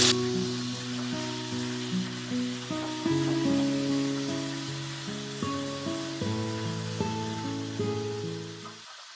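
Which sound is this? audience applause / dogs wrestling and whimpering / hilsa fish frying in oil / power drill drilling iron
hilsa fish frying in oil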